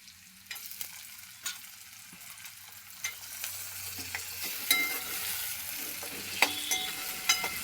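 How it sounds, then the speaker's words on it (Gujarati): Tomatoes are stirred into a pan that already holds garlic and is sizzling, with a constant frying hiss and repeated clicks and scrapes of a spatula as the mixture is turned. Nobody speaks. "હવે એની અંદર ટામેટા નાખી દઈશું."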